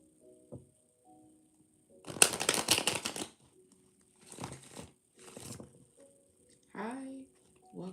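Tarot cards are riffled and shuffled in a few quick, soft papery bursts at close range, followed by a short voice, with quiet gaps between the bursts.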